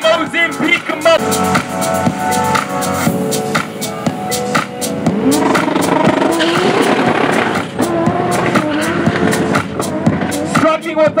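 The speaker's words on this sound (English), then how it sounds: "Struggling with a bit of wheel spin. Gets it into third gear, struggles with wheel spin again" A drag car launches at Nitro Raceway, engine revving hard through the gears with bursts of wheel spin and tire squeal, loud and close with revs rising and dropping.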